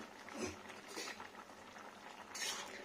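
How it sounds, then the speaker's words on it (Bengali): A pot of vegetable curry with taro, okra, Malabar spinach and chickpeas bubbles and simmers on the stove with soft gurgling and hissing, a few clinks and stirring noises rising briefly near the end. "আর দেখবো কেমন ফুটছে"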